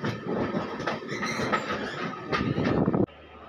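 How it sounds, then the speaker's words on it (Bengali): A passenger train on the Kharagpur to Katpadi route rolls steadily along the rails, its wheels giving a loud, rhythmic clickety-clack heard from inside the carriage before the rumble abruptly drops lower. "আর এই ঝিকঝিক আওয়াজ শুনুন"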